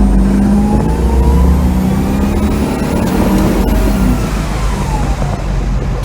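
A turbocharged Mazda RX-7 with a small-block Chevy V8 running 7 psi, heard from inside on its first test drive, engine loud and close as it accelerates, with rising pitch and steady roar.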